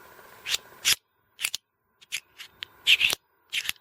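Travel tripod's camera mount being loosened, giving a handful of short, separate clicking and scraping bursts close up with quiet gaps between them and no talk.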